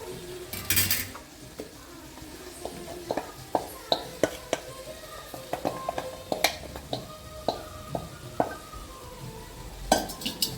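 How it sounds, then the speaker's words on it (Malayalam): A spoon stirs broad beans (amara payar) in a metal cooking pan, giving repeated close clinks and scrapes at an uneven rhythm over a faint sizzle. "ഇപ്പം നമുക്ക് നന്നായിട്ട് ഇളക്കി യോജിപ്പിക്കാം"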